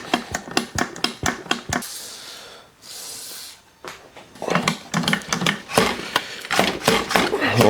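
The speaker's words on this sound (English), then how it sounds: "Bit of a tap on the bolt." A series of sharp metallic taps on the stem bolt of a 1976 Raleigh Chopper bicycle, close and fairly loud, in quick irregular runs around a brief hissing pause.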